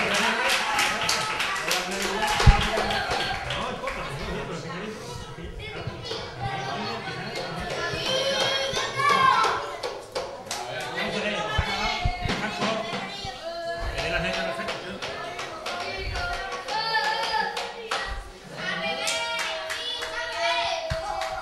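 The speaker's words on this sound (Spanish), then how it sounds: "Un fuerte aplauso para él." Crowd applause at the UD Roteña under-10 youth football team's 2013/14 season closing ceremony, clapping hands rippling through most of the stretch alongside a speaking announcer and children's chatter.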